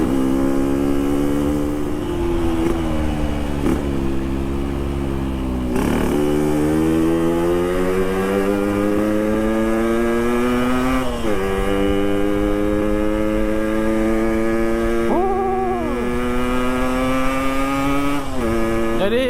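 A Yamaha RS motorcycle engine drones loud and constant while riding, its pitch rising through the gears with brief dips at each shift, no voices over it.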